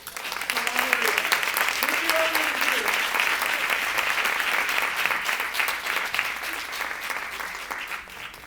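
An early childhood conference audience applauds a keynote speaker with a steady, full round of clapping that holds evenly and eases slightly at the close, with faint voices underneath.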